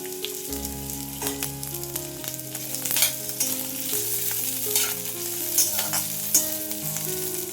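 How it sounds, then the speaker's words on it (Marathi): Chopped onion frying in a kadai over medium heat, a loud continuous sizzle with stirring scrapes running steadily beneath background music. "आता हा कांदा मध्यम आचेवरती सोनेरी रंग येईपर्यंत छान भाजून घ्यायचा"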